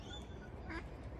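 Small ducklings at the water's edge give a few faint, brief quacks and peeps against quiet outdoor background noise.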